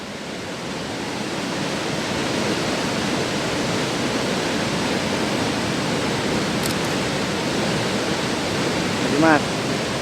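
River water rushes steadily beneath a long suspension bridge, a broad continuous roar with no clear breaks.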